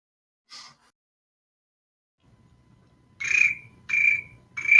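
Crickets chirping at night, a brief faint trill and then three loud, close, shrill chirp bursts in a steady rhythm over a quiet low background.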